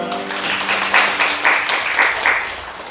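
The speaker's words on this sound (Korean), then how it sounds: "박수가 올렸습니다." Congregation applause during a Korean church Sunday service, a short spell of group clapping with uneven bursts that rise and fall over a few seconds.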